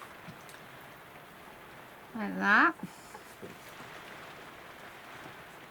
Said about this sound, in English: I'm listening to the rain as well